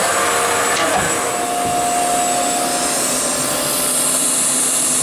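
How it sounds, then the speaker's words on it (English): Steady loud whirring drone of a CNC machine running a homemade boring tool, trimming bearing tang slots in a Subaru EJ engine block after a thrust conversion, a continuous light cut with a faint whine. "I've got a little homemade boring tool I made that will go down in there and trim just enough away to use the newer bearing set"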